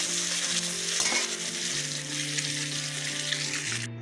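An egg fries in a pan on a home kitchen stove with a continuous close hiss and crackle over faint background tones, cutting off just before the end.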